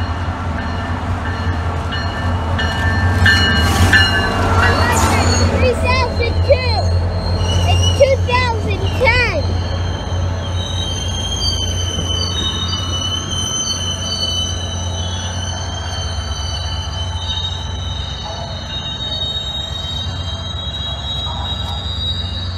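Amtrak train passing in Orlando, a rolling rumble with sharp, high wheel squeals in the first half, settling into a sustained metallic ring as the cars roll by, with brief voices nearby.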